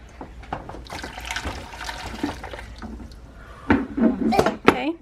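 Boiling water pours into a measuring cup for homemade play-dough, a gurgling, splashing stream that grows louder and more bubbly near the end, with people talking in a home kitchen.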